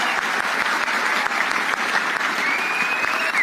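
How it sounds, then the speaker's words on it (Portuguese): Loud, continuous crowd applause, a dense even wash of clapping from an audience with a faint tonal whine underneath, holding steady throughout. "Uma salva de palmas pra esse cara"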